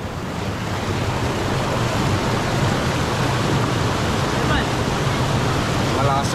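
A strong river current rushes loudly and steadily in Dingalan, Aurora, a continuous broadband roar of water with wind-like noise that fills the whole stretch without pause.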